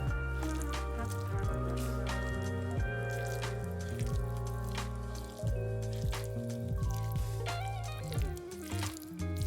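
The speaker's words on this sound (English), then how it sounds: "pour the sauce over the shredded chicken and mix until it's evenly coated" Sauce poured over shredded Costco chicken and stirred through, giving wet squishing and dripping sounds in steady repeated strokes, close and fairly quiet, with no voices.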